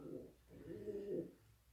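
Homing pigeons coo in a soft, low, throaty murmur that swells in two rolling phrases, close by and quiet, with no voices over it.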